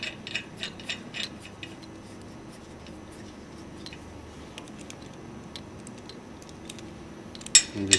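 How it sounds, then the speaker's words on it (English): A 10 mm Allen ratchet tightens position locators on a separator cartridge, giving bursts of rapid clicking at the start and again at the end, separated by a quiet stretch. "Allen ratchet again, tighten it up."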